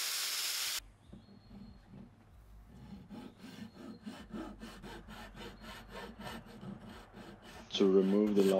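Hand rasp filing material from a tobacco pipe mouthpiece: a series of quiet, rhythmic scraping strokes, close and faint, following a brief hiss at the start, with a short burst of other sound at the end.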